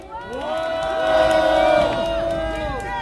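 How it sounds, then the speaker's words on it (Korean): A crowd at a student seminary gathering cheers and whoops for a speaker, with overlapping raised voices swelling and then easing over a few seconds; distinct clapping is hard to pick out. "많은 격려와 박수 부탁드리겠습니다"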